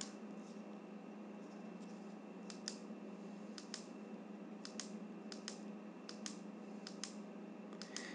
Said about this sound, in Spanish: El primer clic es para activar la luz con el sensor de luminosidad